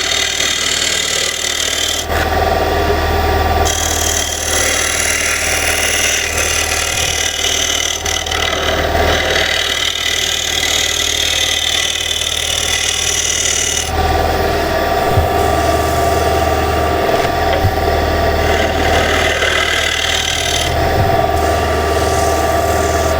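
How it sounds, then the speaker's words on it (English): A tool scrapes a hand-turned wooden plate spinning on a lathe, making a continuous loud rasping over the steady hum of the motor, with the pitch shifting as the pressure changes. "Now I can scrape the rest of it."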